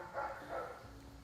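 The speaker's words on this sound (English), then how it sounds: "that dog has been barking for 4 hours straight" A dog on a deck across the street gives two faint, distant barks in quick succession over low background noise.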